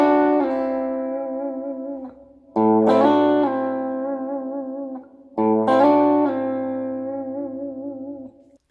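Electric guitar plays a beginner blues lick three times, each a struck double stop sliding down and ringing out with wavering vibrato, loud and close with no talking.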